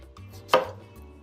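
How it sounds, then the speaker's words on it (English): A knife slicing through acorn squash gives a single sharp crunching cut, close and crisp, against a quiet background. "Now I'm just going to cut it into slices."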